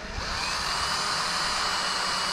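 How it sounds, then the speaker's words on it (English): A power drill whirs steadily as it bores along a marked line on a sailing boat mast, making a continuous, close, high-pitched buzz with no talking. "I'm going to drill down that whole line"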